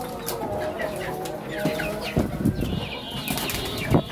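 Chickens cluck and squawk close by, with occasional wing flaps and scattered calls over a steady farmyard background.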